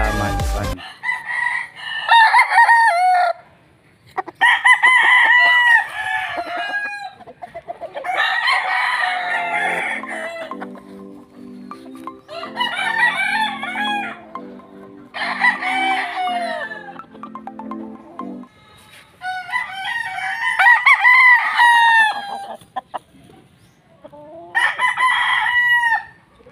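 Brooding hens and a rooster on a small farm fill the air with repeated clucks and crows in bursts, near and fairly loud, with short quiet gaps between calls.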